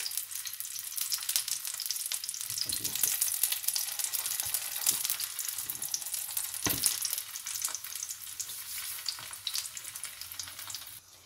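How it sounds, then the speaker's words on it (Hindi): A stuffed chicken paratha fries in a pan over a low flame, producing a steady, close sizzle with occasional soft scraping and stirring knocks. "बिस्मिल्लाह, और धीमी आंच पे इसको पकने देंगे।"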